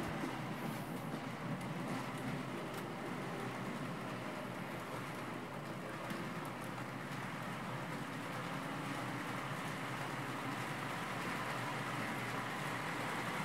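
An N scale model container train runs steadily along the track, giving a continuous, even rolling rumble at close range with no break and no voices.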